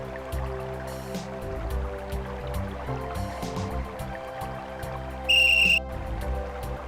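In the Simon the Sorcerer point-and-click adventure game, a shrill whistle sounds once, briefly and loudly, near the end, over continuous background music.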